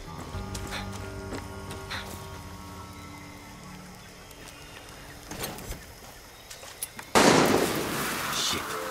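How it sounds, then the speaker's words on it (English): A few sharp distant gunshots crack out over quiet ambient surroundings in Far Cry 6, followed near the end by a sudden loud, sustained burst of broadband noise. "who's shooting?"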